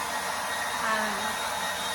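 A hair dryer blows steadily while a dog is being dried during grooming, a constant close whooshing drone with no breaks.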